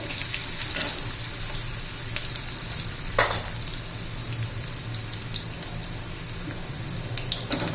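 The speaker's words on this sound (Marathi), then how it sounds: "एक छोटा कांदा घातला छान आता परतून घ्यायचं" A small onion and garlic sauté in a pan for a guar (cluster bean) keema, giving a steady, soft sizzle throughout, with a brief clatter of stirring near the middle and no talking.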